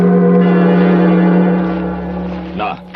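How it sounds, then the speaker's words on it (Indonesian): A gong struck in a radio drama rings with a deep sustained hum and shimmering overtones, slowly decaying over a few seconds before a faint scrape at the end. "Gong!"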